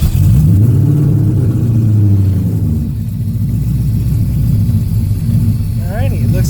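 A Ford Foxbody Mustang with a swapped-in Coyote V8 idles steadily up close, a deep continuous rumble that eases slightly after a couple of seconds, with a brief voice near the end.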